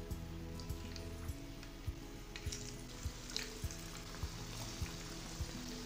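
Paneer pakoras fry in oil over a medium gas flame, giving a steady, quiet sizzle dotted with soft pops and crackles, with no voices.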